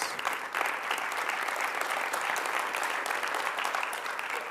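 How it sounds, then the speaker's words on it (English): Audience at the IOC report meeting on the Rio Olympics in Tokyo giving a standing round of applause, a thick, even wash of many hands clapping without pause from start to finish. "please have an extra stand and an extra round of applause"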